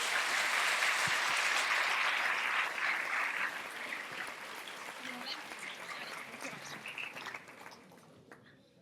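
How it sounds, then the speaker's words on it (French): Audience applause for a speaker at a talk, a dense steady roar of many hands that gradually thins and fades out over several seconds. "Je vous demande un tonnerre d'applaudissements pour la première"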